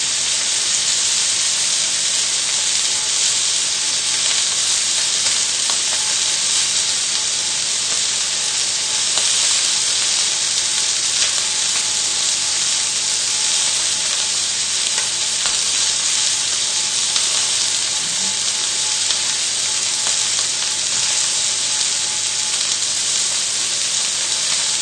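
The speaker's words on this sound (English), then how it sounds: "we're just leaving the steak just to cook" A steak cooking in a pan sizzles loudly and evenly up close for the whole stretch, a constant hissing fry with faint crackles and no voices.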